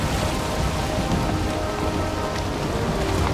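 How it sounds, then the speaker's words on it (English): Steady, dense rain pours down throughout a stormy scene in the video game Valheim, with low rumbling thunder rolling beneath the constant hiss, loud and close with no voices. "Nice and rainy too, just how I like it."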